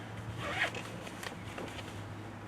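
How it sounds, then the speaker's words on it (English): Zip-off leg of Kuhl Liberator convertible hiking pants being unzipped, a few soft ratcheting zipper pulls, quiet and close with a low background hum. "Just unzip it the rest of the way."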